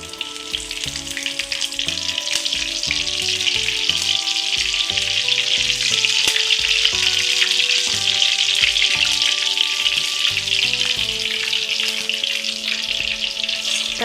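Mustard seeds and curry leaves crackling in three to four spoons of hot oil for tempering, a loud continuous fry with dense popping and spitting that holds steady throughout, close by with no talk.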